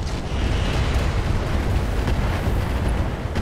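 Bolt-on rockets firing and exploding in the Roguetech mech video game, a dense continuous roar of overlapping blasts and rumbling booms lasting several seconds, loud and alone.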